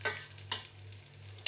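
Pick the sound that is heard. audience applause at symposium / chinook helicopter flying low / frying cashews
frying cashews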